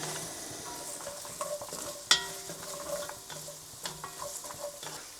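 Vegetables for pea and ham soup sizzle in a pot while being stirred, a soft, steady fry broken by scattered scrapes and one sharp clink of the spoon.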